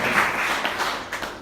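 A church congregation claps together in a brief, steady round of applause that fills the room.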